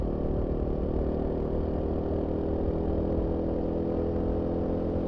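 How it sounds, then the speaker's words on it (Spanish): A Royal Enfield Himalayan 450 with a new 40-horsepower single-cylinder engine runs steadily at a low idle, a constant mid-level hum with no voices. "vamos a arrancar este monocilíndrico de 40 caballos de nueva factura de Royal Enfield"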